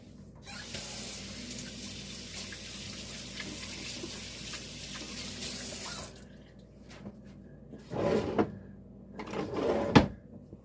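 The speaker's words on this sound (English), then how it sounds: "I'm going to wash my hands real quick." Hands are washed under a running kitchen tap while baking banana bread: a steady, close hiss of flowing water for about five seconds, then the water stops and a few clunks and clatters of handling follow.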